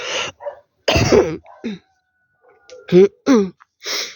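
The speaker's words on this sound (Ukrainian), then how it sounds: "Цей кашель задовбав." Several harsh coughs and throat-clearing sounds come in short bursts, separated by brief silences, close to the microphone.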